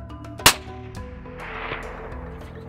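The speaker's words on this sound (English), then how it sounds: "That was a long shot across the valley here, huh?" A single sharp rifle shot cracks out, aimed at a kudu across a valley on an African hunt, followed by a faint echo and quiet outdoor ambience.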